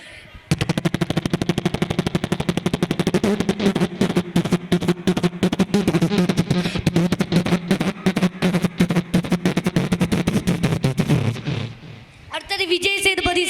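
A man vocally imitates a helicopter passing by, producing a long run of rapid, loud, evenly pulsing chops that gradually shift in tone as though becoming music, ending in a short faint trail.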